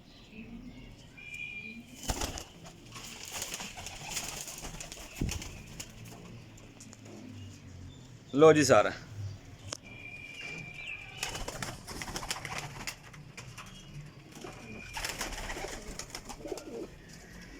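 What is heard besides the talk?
Kasuri pigeons cooing and flapping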